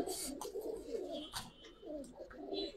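Giribaz pigeons coo softly and repeatedly at close range, the low burbling calls rising and falling over a few seconds amid faint rustling, with no voices.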